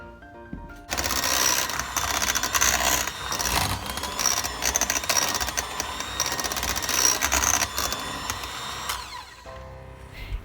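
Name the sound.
electric mixer mashing potatoes in batches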